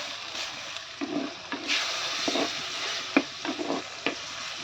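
Onions and tomato with curry leaves sautéing in a pan for ulli sambar, a continuous sizzle broken by spoon scrapes and stirring knocks, close and moderately loud.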